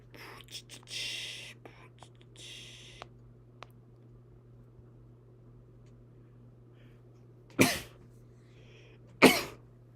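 Two sharp, explosive sneezes burst out close by, a couple of seconds apart, following some soft whispering and faint rustling in an otherwise quiet room.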